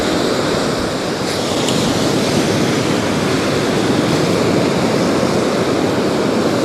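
Steady ocean surf breaks and washes along the shore during a spring bass fishing session, a continuous broadband roar that holds loud and unbroken throughout, with a hint of wind noise on the microphone.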